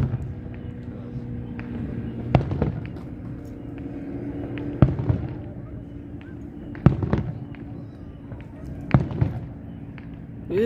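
A July fireworks show fired from a golf course, heard as four separate distant booms spaced a couple of seconds apart over steady background rumble, with people chatting between them.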